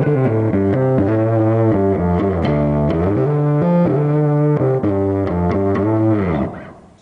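A bass guitar played through heavy distortion, thick fuzzy notes shifting through a riff before the last note rings out and fades.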